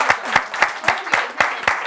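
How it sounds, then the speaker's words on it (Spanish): Studio audience on a television talk show clapping in a steady, regular rhythm, about seven or eight evenly spaced claps, close and moderately loud. "¡Un aplauso para este disco de oro!"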